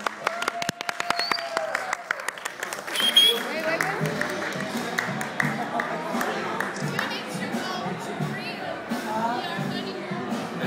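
Applause and clapping from diners at an anniversary dinner after a marriage proposal, a steady crowd patter mixed with cheers and chatter filling the room for several seconds.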